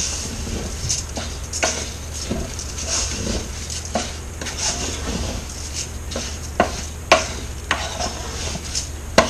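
Mushroom risotto being stirred in an Instant Pot XL, a spoon scraping and knocking against the inner pot in an irregular rhythm, with a handful of louder clacks toward the end and a soft background hiss, no voices.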